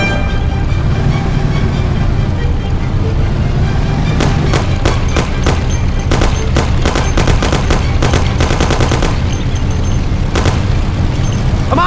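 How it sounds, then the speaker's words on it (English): Gunfire in the 1930s gangster video game Mafia: loud, sustained bursts of machine-gun fire and booming shots, close and overlapping, with rapid clusters of cracks. "You and Sam shoot them!"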